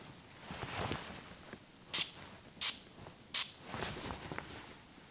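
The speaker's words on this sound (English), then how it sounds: "let's spray this and see what we get" Three short, crisp spray bursts from a perfume atomizer, spaced evenly apart, close by, with soft handling noises around them.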